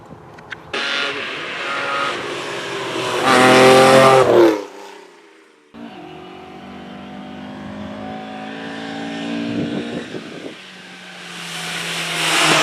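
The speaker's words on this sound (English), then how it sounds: "I shall leave you to enjoy the cars as each one comes past." Rally cars on a closed road during the Lombard Rally near Bath, roaring past one after another, loud engine revving builds then fades, followed by another car approaching and passing with rising engine note.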